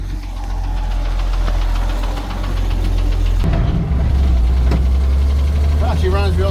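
A 1974 Ford engine runs steadily close by with a deep, constant low rumble, under a continuous engine drone that grows fuller partway through; a few short bird-like chirps show up near the end.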